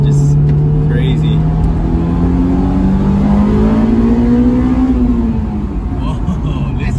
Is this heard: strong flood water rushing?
no